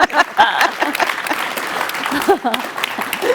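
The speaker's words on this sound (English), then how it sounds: "just give us a warm round of applause" Warm audience applause at the end of a conference session on financial-crime priorities and trends, clapping mixed with talking voices and cheers throughout.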